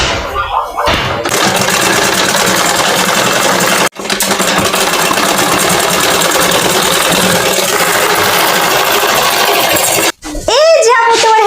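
A household sewing machine stitching clothing such as pajamas runs in long continuous buzzing stretches with brief stops, close and loud, with people talking over it.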